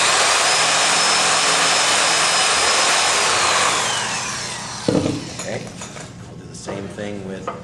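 A power drill bores a hole in sheet metal for a tool box, the workpiece resting on a 2x4: a loud, steady high whine for several seconds that winds down, followed by a few sharp clanks and handling knocks.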